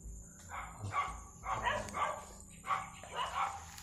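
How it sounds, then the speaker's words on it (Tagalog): Repeated dog barks at a steady rhythm, moderately distant, about seven barks over a few seconds against a low background hum. "May aso."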